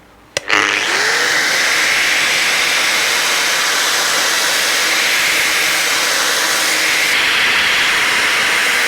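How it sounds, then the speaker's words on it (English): A grinder fitted with a badly worn disc works a part from a Royal Enfield motorcycle's girder forks, starting with a brief knock and then holding a loud, steady, hissing grind with no talk. "got a very worn disc in the grinder. I'm just going to very carefully glance over the face"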